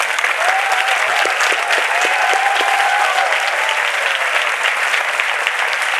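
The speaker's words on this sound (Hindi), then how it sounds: "क्या हम यीशु के लिए ताली बजा सकते हैं?" A church congregation claps for Jesus, loud sustained applause from a large crowd with a few voices calling out over it.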